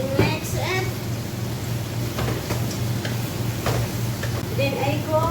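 Roast chicken and black pepper being mixed in a pan for pancit bihon, light scraping and a low sizzle running under a speaking voice.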